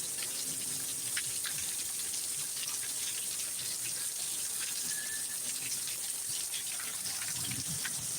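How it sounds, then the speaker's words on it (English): Heavy thunderstorm downpour in Needles, California, pouring steadily as a dense, continuous wash of rain with scattered drop impacts, moderately loud and unbroken throughout. "This is the longest downpour I've ever seen."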